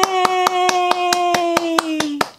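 Hands clap about ten times in a steady, even rhythm, with a sustained musical tone held underneath. The clapping marks the end of a children's read-aloud of the book Baby Loves Paleontology.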